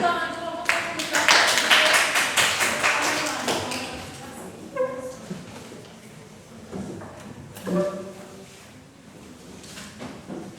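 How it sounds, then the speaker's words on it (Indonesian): Classmates clap rhythmically for group 1, a close burst of sharp, rapid claps that fades into a few scattered claps while people talk. "Sekarang kita beri tepuk tangan kelompok 1"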